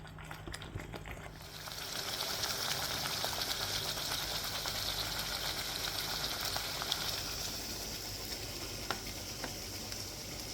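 Chili and onion paste fries in a pan for a Tamil Nadu street-style tomato chutney, a steady bubbling sizzle that swells after a quieter start and keeps going with no talk.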